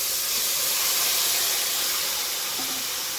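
Vegetables go into a pan of fried spices with added water, setting off a loud, continuous steamy hiss and sizzle that runs throughout without a break.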